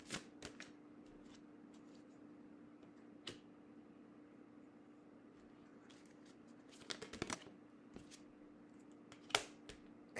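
Tarot cards are handled and shuffled in quiet sparse bursts of soft flicks and taps over a steady low hum, with a denser riffle of clicks partway through.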